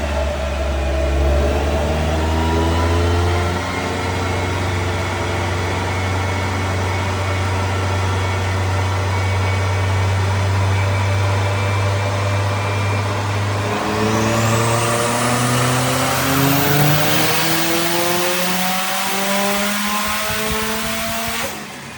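Stock-motor Subaru STI fitted with a GTX3582R turbo on a rotated kit, a loud sustained engine roar that holds steady, then climbs as revs build with rising turbo whine, close by with no talk.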